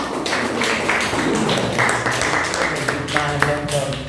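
A chemistry class claps for the winning group in a classroom, a dense spread of hand claps running steadily throughout with some voices mixed underneath.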